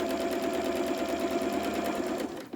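A hand-crankable sewing machine runs along the long edges of a fabric advent calendar in a steady, close, rhythmic whir of rapid stitches, slowing and stopping at the end.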